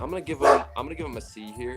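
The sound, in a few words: dog barking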